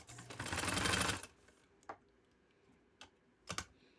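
A sewing machine stitches a fabric sleeve in one fast, close whirring run of about a second, followed by a few quiet isolated clicks and taps.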